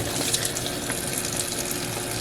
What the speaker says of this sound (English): Let me put a little water in here. Rinse that out.